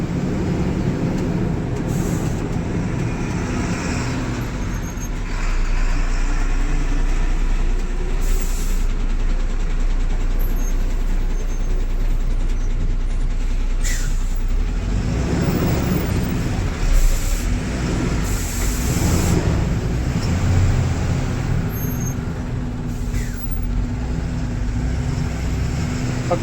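A truck drives at night on a forest-area highway, with a steady low engine drone and road rumble heard from inside the cab, loud and continuous with occasional clunks and no talk.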